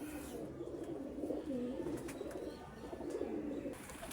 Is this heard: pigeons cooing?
yes